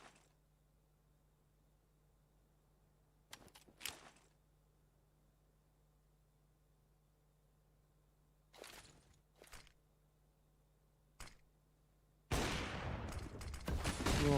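Sharp, distant gunfire in a Counter-Strike: Global Offensive match on Dust 2, with a few isolated shots and footstep-like scuffs spread across near silence, then a dense burst of loud sustained firing at the end.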